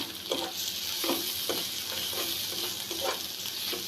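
Ground spices with turmeric frying in a pan for a papaya stir-fry, a steady high hiss with soft stirring scrapes every half second or so, close and continuous, with no voices.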